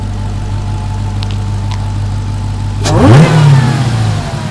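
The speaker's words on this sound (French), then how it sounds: "on va écouter le compresseur. Et là, c'est valve fermée du coup" A supercharged Dodge Redeye V8 idles with a loud, steady drone, then blips into a sharp rev around three seconds, pitch sweeping up and falling back, with the supercharger whine audible and the exhaust valve closed.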